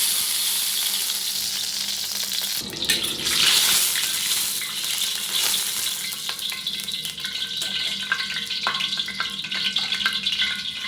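Cooking oil sizzles loudly in a pan, ready for sautéing for chicken tinola, a steady close frying hiss, with a sudden louder surge and then continued crackling and faint clinks.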